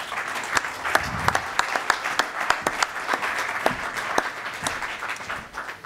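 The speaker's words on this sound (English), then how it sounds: "Please give him a warm round of applause, Walter de Witt." Warm audience applause, many hands clapping together in a sustained, even wash with a few sharper claps standing out.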